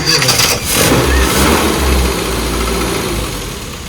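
An engine with a pink 540 carburettor jet turns over and catches, then settles into a steady low idle that carries on close by, loud and continuous.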